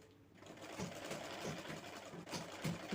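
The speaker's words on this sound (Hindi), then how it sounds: "अब वहाँ पे हम इस 2 पार्ट को इस तरह से हम सिलाई लगा देंगे।" A sewing machine stitches two pieces of plain blouse fabric together, its steady mechanical whirr running continuously and fairly close with slight surges in speed.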